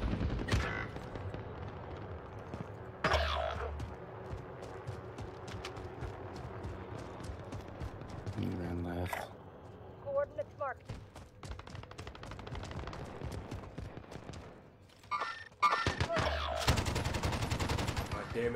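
Bursts of gunfire in a Warzone-style shooter, loud volleys and rapid shots scattered across the stretch with footsteps and other game noise between them, some heavy clusters near the end.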